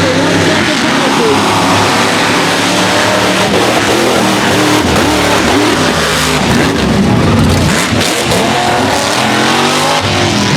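Supercharged blower engines of mega trucks scream at full throttle during a West Virginia mud race, loud and sustained with rising and falling revs, overlapping engines and a commentator talking over the roar.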